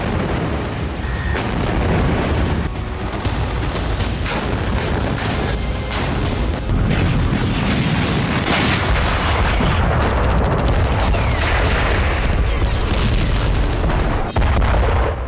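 Heavy, continuous booming explosions and blasts overlap in a loud, dense barrage, with sharp bursts and rumbling low-end impacts sustained without pause from start to finish.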